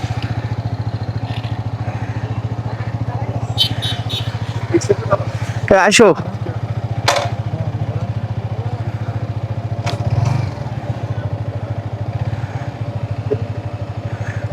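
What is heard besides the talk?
motorcycle starting and riding on hill road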